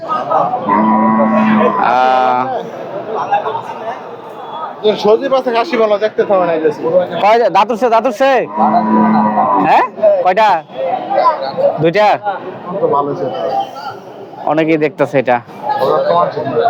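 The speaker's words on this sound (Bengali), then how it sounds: "এই পাশে গরু আছে" Cattle moo at a busy cattle market in Bangladesh, with low harmonic calls around 1 to 2 and 8 to 9 seconds mixed into loud, close conversation and crowd chatter.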